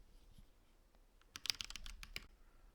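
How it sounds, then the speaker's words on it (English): Keystrokes on a Keychron V4 mechanical keyboard, faint at first, then a close burst of clicky taps clustered over about a second, tapering off into a few scattered presses. "I'm just gonna type now"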